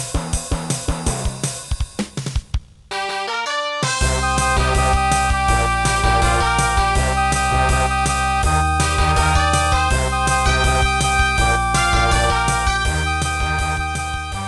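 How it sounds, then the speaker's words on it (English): Synthesized MIDI-style music playing, bright electronic instrument tones with a steady beat; a short sparse intro gives way to a full, dense arrangement. "You've probably heard of MIDI, and you probably think it sounds something like this."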